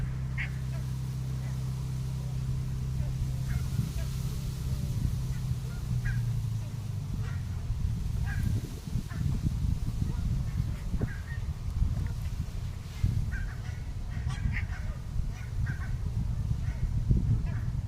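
A duck quacks in short calls over steady low wind and water noise at a lakeside fishing spot, the calls fairly faint and scattered through the scene.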